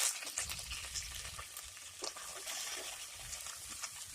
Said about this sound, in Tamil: வெள்ளை பூண்டு நல்லா பொரிஞ்சதுக்கப்புறம் கருவேப்பிலை சேர்த்துக்கலாம்.